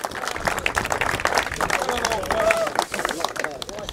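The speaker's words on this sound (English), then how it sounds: "I think he deserves a round of applause." At a team fishing championship prize-giving, a group claps for an angler's perch catch, uneven scattered applause mixed with crowd chatter and nearby voices.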